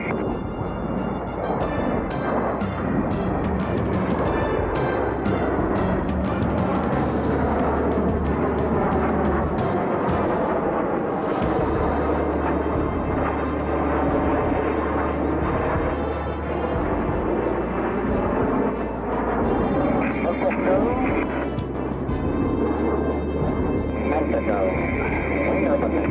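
Jet aircraft display team flying a rolling maneuver in Starfighter formation at 280 knots, a loud, sustained roaring engine rumble that swells and shifts pitch as the jets pass, with radio voices talking over it.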